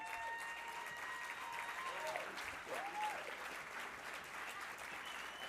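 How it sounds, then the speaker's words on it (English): Audience applause at an ALS charity fundraiser gala rises across the hall, soft and distant, with a continuous wash of clapping and a few faint voices mixed in. "Let's give a round of applause, everybody."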